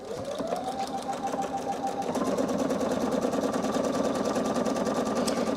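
A sewing machine stitches a small buttonhole, running as a fast, steady mechanical whir with rapid regular needle ticks that stays close and even and picks up slightly partway through.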